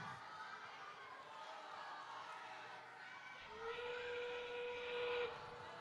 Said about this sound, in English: As that whistle means we are now in our endgame period